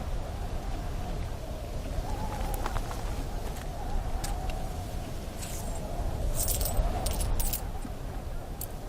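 Several small metal coins jingle and clink together in a hand, a steady rattling that runs throughout with brighter metallic chinks standing out near the end, heard close up with no talk.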